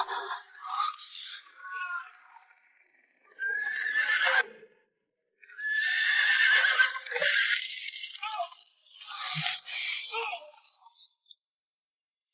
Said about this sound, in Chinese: 外面有马蹄声，来了好多人